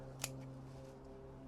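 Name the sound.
scissors cutting side shoots off plants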